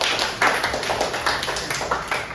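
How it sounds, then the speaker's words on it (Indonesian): A small class of students in a classroom claps briefly for a classmate, the separate close claps forming a quick, uneven patter with no talking. "Coba tepuk tangan untuk Alvin"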